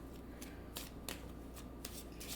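Tarot cards are shuffled close up to draw clarifier cards, a soft continuous riffle broken by quick flicking bursts of card edges, with no voice heard.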